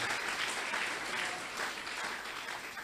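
A church congregation applauds and cheers for the Lord Jesus, dense, continuous clapping filling the room from start to finish with mingled voices.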